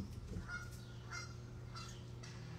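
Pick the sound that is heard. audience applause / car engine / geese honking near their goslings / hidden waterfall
geese honking near their goslings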